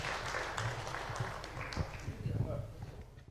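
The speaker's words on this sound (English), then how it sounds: "Another proper round of applause as they exit the stage" A crowd claps at a green financing conference while panelists walk off stage, a moderate steady patter of applause that begins to thin out toward the end, with a voice faintly mixed in.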